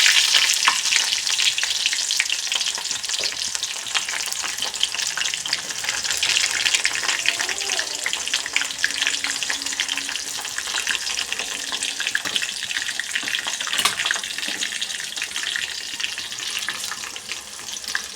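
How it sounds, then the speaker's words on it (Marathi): Chopped onion frying in hot oil in a home kitchen pan, a continuous loud sizzle with occasional stirring scrapes, close and steady throughout. "आपण पूर्ण सगळा कांदा इथं ॲड करून घेऊ"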